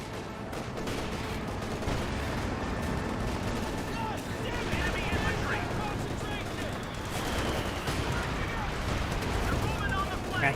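In the Company of Heroes 2 battlefield, a Panther tank takes an explosive hit amid dense, sustained gunfire and blasts, a continuous rumbling barrage with a commentator talking over it.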